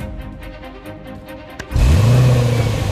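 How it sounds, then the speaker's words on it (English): A Range Rover Sport idles quietly, then a sharp click and a loud rev as the V8 roars up and holds a deep, rising growl up close. "The noise of a V8 is, is an important thing for piston head readers."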